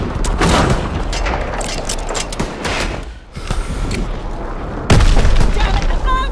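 Bomb explosions in Call of Duty: WW2 multiplayer, a dense barrage of heavy booms and thuds layered with gunfire, loud throughout with a big blast near the end, voices talking over it.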